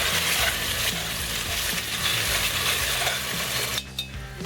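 BBQ sauce with apple cider vinegar is stirred around a container, a dense close rustling and scraping swirl that drops off abruptly near the end.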